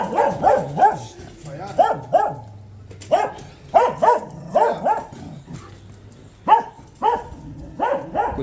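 A dog barks repeatedly in short bursts of several woofs with pauses between, fairly close, in the old city of Antalya, with people talking faintly in the background.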